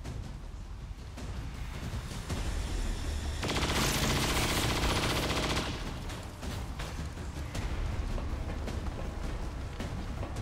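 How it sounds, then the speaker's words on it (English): Sustained automatic gunfire in Long War 2, with dense crackling bursts swelling into a loud continuous volley in the middle, then scattered shots and rattles continuing over a busy combat background. "I'm taking fire!"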